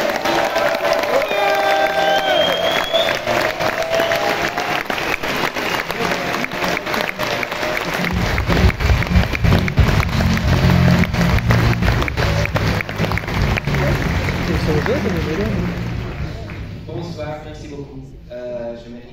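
A festival cinema audience at Gérardmer applauds and cheers, loud sustained clapping with a rhythmic surge midway, then fading as a person starts talking near the end.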